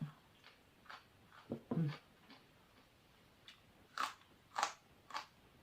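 Crunchy food is bitten and chewed close by, producing several separate crisp crunches with quiet pauses in between.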